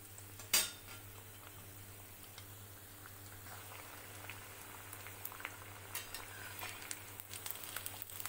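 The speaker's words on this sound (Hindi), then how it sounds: "कटलेट्स को पलट पलट कर दोनों ओर से अच्छा गोल्डन ब्राउन तल करके तैयार करना है" Noodle and poha veg cutlets fry in a pan with a soft, steady sizzle and bubbling, quiet and close, opened by one sharp clink of a utensil and dotted with small ticks and scrapes.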